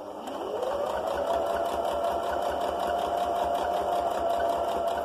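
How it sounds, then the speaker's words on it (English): A sewing machine runs up to speed and stitches steadily along a seam of a fabric face covering, a close, continuous rapid whirring hum that never pauses. "and just sew down to the bottom"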